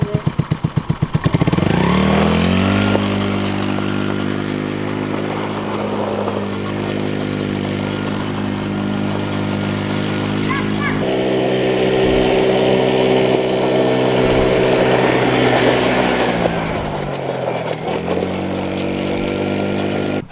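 A four-wheeler engine revs and holds a buzzy drone as a kid rides it on a gravel driveway, with pitch shifts from throttle changes, loud and near throughout.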